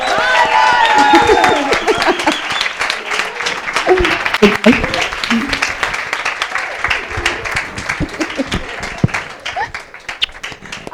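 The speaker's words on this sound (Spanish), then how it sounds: "Aplaude muy fuerte, por favor." A live audience breaks into loud applause and cheering at a gourmet-themed stage event, with dense clapping that gradually thins while voices talk over it.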